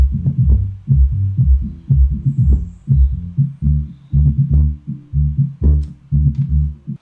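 A tribal Latin house track plays its deep sub bass line with everything above about 200 Hz cut away, leaving a muffled, throbbing low-end pulse that repeats in steady, punchy bursts, loud and alone.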